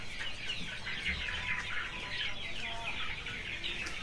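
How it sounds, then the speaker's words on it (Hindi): Local desi chickens on a small poultry farm of about fifty hens and two roosters, a continuous chorus of clucking and chirpy calls, close and busy with no talk. "50 मुर्गियों में मैंने दो ही मुर्गा रखा हुआ है"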